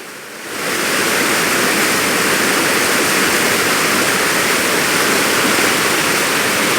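Fast water pours over a weir at Ban Samut in Prasat district, Surin, making a loud, steady, close roar that swells in within the first second and holds constant.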